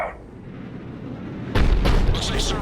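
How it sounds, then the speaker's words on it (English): A heavy Cerberus cannon in Mass Effect 3 booms once with a deep, loud blast, and its rumbling aftermath of crackling impacts follows over faint background ambience. "Looks like Cerberus got that cannon operational"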